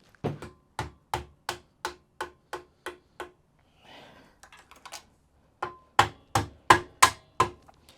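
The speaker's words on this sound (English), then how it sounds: "I was gonna hammer it." Metal blows from a hammer strike a Honda CM400T motorcycle engine part in a workshop, a steady run of about a dozen sharp close knocks, a short pause with faint rustling, then another quick burst.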